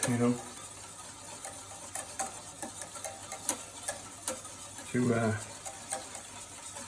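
Yeast-activated piragi filling is stirred in a bowl, with two short scraping swirls at the start and near five seconds and light scattered clinks and taps between them, fairly faint and close.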